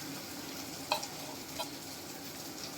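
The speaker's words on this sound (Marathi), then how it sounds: "अजून 1 मिनिट आपण परतू देऊया." Raw masala spice paste frying and being stirred in oil in a pan, a steady close sizzle with a couple of soft scraping stir knocks, no voices.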